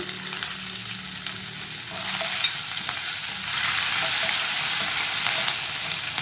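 Three green chillies frying in oil in a pan on medium heat, with a steady close sizzle and soft stirring scrapes, a little louder in the second half, no talking.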